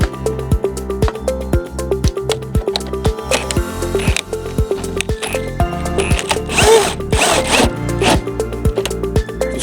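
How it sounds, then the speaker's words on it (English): A cordless drill in normal drill mode winds down a caravan stabilizer leg, its motor whirring steadily and loudly up close with a regular ratcheting pulse throughout, no talking. "Normal drill on drill mode."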